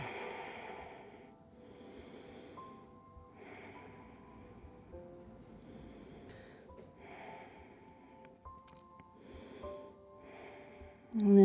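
Slow breathing out in a yoga child's pose, a series of soft, close exhales repeating at a relaxed pace over quiet sustained background music.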